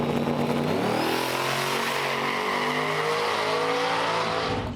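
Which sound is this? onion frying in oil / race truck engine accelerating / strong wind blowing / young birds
race truck engine accelerating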